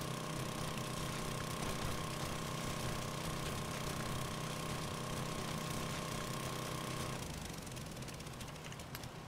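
A tougher auger grinds into the ground in the game 7 Days to Die, a constant droning motorized whine that holds steady and then eases slightly near the end.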